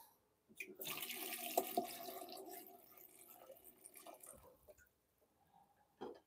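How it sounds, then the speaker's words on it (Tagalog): Tap water runs into a cooking pot for about four seconds with a steady gush, then stops, leaving a couple of faint knocks in a quiet kitchen. "Lagyan natin ng tubig."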